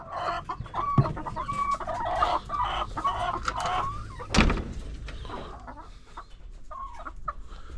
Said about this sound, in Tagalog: Ayan yung mga manok ko.